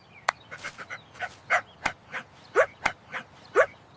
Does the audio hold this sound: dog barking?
yes